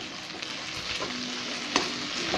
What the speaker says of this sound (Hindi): अब इस मसाले को मैं इसमें डालूँगी, और इसे भी 2 से 3 मिनट तक प्याज के साथ में अच्छे से भूंज लेती हूँ